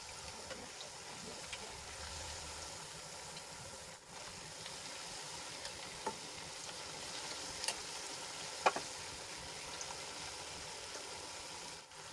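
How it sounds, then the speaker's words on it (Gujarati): Gujarati fafda deep-frying in hot oil, a steady broadband sizzle and bubbling that runs throughout at low level, with a few faint clicks and no talking. "એ જ રીતે આપણે બધા તળીને તૈયાર કરી લઈશું"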